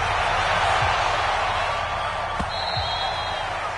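Steady, dense roar of a video-game NFL stadium crowd at a Buffalo Bills versus Miami Dolphins matchup, loud and continuous throughout with a faint whistle-like tone partway through.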